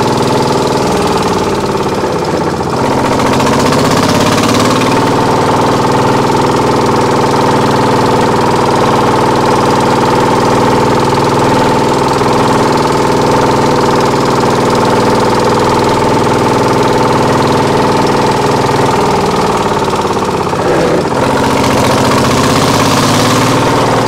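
A dumper's engine runs steadily for the whole stretch, loud and close, as the machine is driven under a roof on a rainy timber yard, with a deep, even idling drone throughout.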